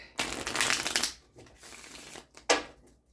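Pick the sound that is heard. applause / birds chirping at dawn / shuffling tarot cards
shuffling tarot cards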